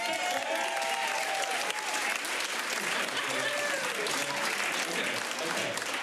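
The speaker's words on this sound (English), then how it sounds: "give a big round of applause to Dan Humke!" Live audience at a Friday night comedy show breaks into steady, dense applause for a performer, a continuous wash of many hands clapping with crowd voices mixed in throughout.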